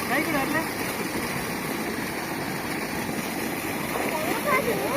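Water rushes and splashes continuously and fairly loudly, spraying onto people, with voices faintly mixed into the steady watery noise.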